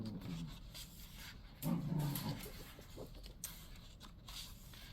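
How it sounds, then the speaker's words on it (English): Two dogs growling while they play, a low rumbling burst that swells near the middle and fades into quieter background noise, fairly faint and without speech over it. "You might be able to hear my dogs growling"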